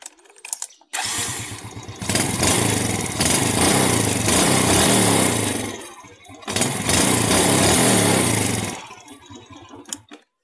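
A loud motorcycle engine revs hard twice with a rough, crackling exhaust backfiring as the mixture burns in the muffler, dropping briefly between bursts and sputtering as it idles down.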